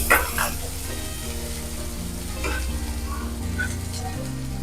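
Garlic and onion frying in oil in a pan for soybean chilli, a steady sizzle running throughout under stirring scrapes, with a low hum beneath and no talk.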